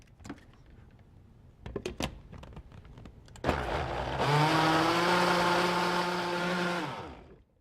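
A few light taps and knocks, then a blender motor whirs up loudly into a steady, high whine while mixing banana bread batter with eggs, running for several seconds before cutting off.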